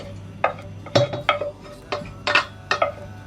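Potato and carrot hash mixture spooned into an oven dish, with several distinct clinks and scrapes of a spoon against the dish in irregular bursts, close and moderately loud, without talk.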